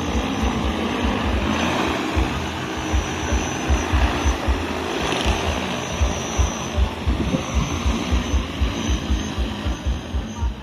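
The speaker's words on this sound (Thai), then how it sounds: "เป็นโดรนพ่นยาฆ่าหญ้านะครับท่านผู้ชม" An agricultural herbicide-spraying drone flies nearby with a loud, steady propeller whine and buzzing rotor drone that holds throughout, with a rhythmic low pulsing underneath and no speech.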